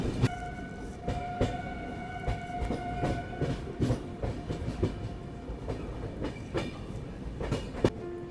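The Sachkhand Express, a superfast train, rolls slowly through Mathura Junction without stopping, its wheels clacking rhythmically over rail joints with steady rumbling, brief tonal squeals and a sharp knock near the end, heard close with no talking.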